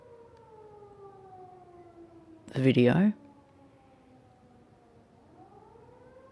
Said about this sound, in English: we've got a siren